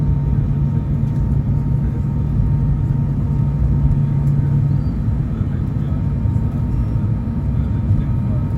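A Lufthansa Airbus A319 airliner taxiing slowly into the gate, heard from inside as a steady, loud low engine rumble and whir with a faint sustained hum, constant throughout with no talk.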